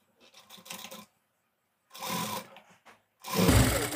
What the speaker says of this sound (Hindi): अब हमको सिलाई चलाना है